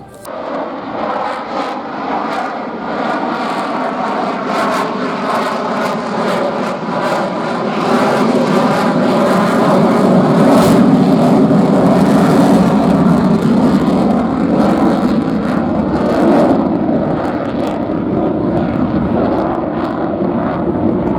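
A military jet flying past at a Marine Corps air station airshow, a loud, steady roar that swells and broadens as it passes, with a whooshing, rushing texture and no talk.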